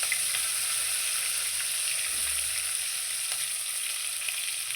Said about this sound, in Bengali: গরম তেলে দিয়ে এগুলো ভেজে নেবে